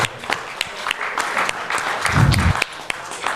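Scattered applause from an audience at a community gathering, moderate in level and fairly brief, with some murmuring voices underneath and a low rumble near the end.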